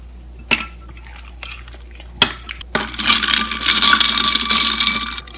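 A spoon clinks against a glass of matcha with oat milk, a few sharp taps, then a busier stretch of rattling and clatter as ice goes into the drink, close and fairly loud with no talking.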